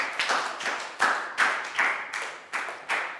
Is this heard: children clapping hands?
yes